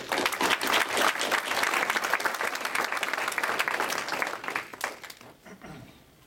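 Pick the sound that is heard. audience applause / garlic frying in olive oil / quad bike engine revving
audience applause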